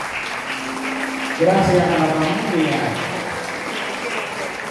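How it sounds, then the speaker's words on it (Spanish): Applause for Delfina at a mural inauguration honouring a writer: a crowd's steady clapping runs throughout while a voice speaks over it in Spanish, briefly louder in the middle. "regalémosle otro fuerte aplauso a Delfina."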